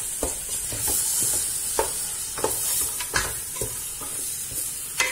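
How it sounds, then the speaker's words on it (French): Meat and spices are stirred in a cooking pot for a white bean stew, with repeated scraping strokes over a steady close sizzle. "Je mélange, que la viande aussi elle prend le goût des épices."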